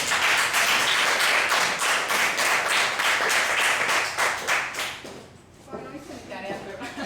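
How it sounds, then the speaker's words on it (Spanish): An audience claps for a woman named Rocío during a talk with student exercises, a dense burst of applause that tapers off after about five seconds, when a voice begins speaking. "un aplauso para Rocío"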